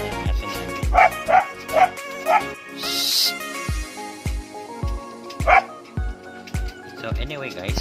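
Pet dogs bark in a series of sharp, repeated yips close by, mixed with higher whimpering, while a person talks through it.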